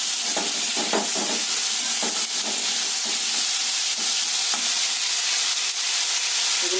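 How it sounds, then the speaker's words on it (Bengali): Salt, sweetener and grated ginger frying in a pan for a homemade dalia dish: a steady, loud sizzle with repeated scraping strokes of stirring throughout. "এগুলো ভেজে নিই।"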